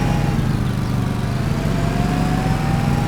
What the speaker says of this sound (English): It's a brand new lawnmower.